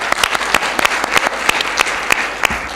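A conference audience claps at the close of a Nepal nutrition research meeting. The applause comes as a steady, fairly loud patter of many hands, with sharp individual claps standing out throughout.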